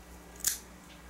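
A single quick snip of scissors cutting knitting yarn while finishing the shoulder of a honeycomb-stitch child's pullover, close and crisp in a quiet room, with no talking.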